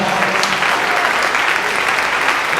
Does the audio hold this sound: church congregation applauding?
yes